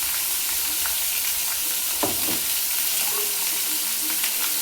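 Chicken cooking in a hot pan hisses and sizzles steadily as a little water is added, the broad frying crackle continuous and close, with a couple of brief clinks partway through and no speech.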